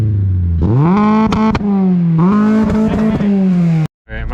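A 2004-2008 Acura TL with a new tune and short-throw shifter accelerates hard, engine note climbing through the gears with loud revving, brief dips at shifts, and a sudden cut near the end.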